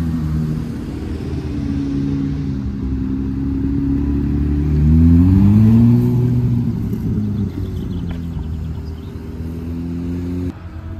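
A Ferrari 296 GTB hybrid V6 engine hums and revs, pitch rising and falling in a smooth surge before settling, loud and close.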